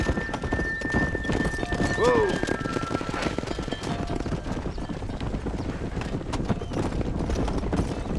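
Horse in the Red Dead Redemption video game, its hooves clip-clopping in a steady rhythm throughout with a short whinny near the start, while a voice speaks over it.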